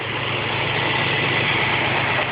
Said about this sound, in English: The 4100 TDI V8, and it runs well.